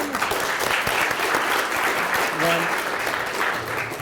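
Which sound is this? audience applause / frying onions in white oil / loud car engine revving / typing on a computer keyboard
audience applause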